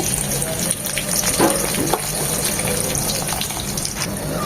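Chopped onions hit hot oil with whole spices and sizzle loudly and steadily, a dense close-up crackle with small pops and stirring scrapes running throughout.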